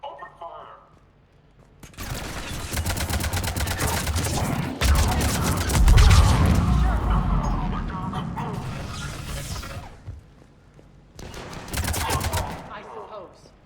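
Bursts of automatic gunfire and weapon shots rattle in Mass Effect 3 combat, loud and sustained with brief pauses and a final burst, mixed with voices and game effects.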